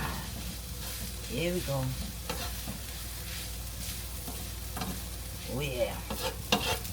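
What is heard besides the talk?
cheesesteak meat and cheese sizzling on the griddle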